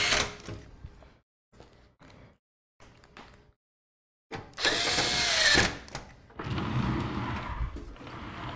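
A power drill drives screws into a PC bracket, several short bursts of whirring with gaps between them, then a louder, longer run near the end.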